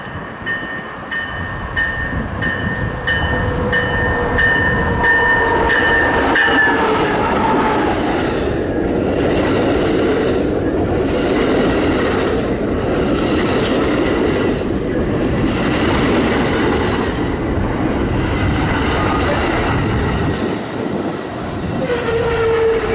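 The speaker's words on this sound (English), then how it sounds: "As soon as that yard movement disappeared, an Amtrak appeared in the distance." An Amtrak passenger train passes Homewood station with a loud, sustained rumble of wheels and cars on the rails, a horn-like tone sounding early and fading as the train rolls by.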